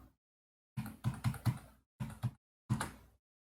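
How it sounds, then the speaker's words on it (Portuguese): Keyboard keystrokes as Shift and arrow keys are pressed while editing in Adobe Premiere Pro, seven distinct thumping clicks in uneven groups with short pauses between, close and fairly quiet. "50 frames são 10 movimentos de Shift mais flechinha no teclado"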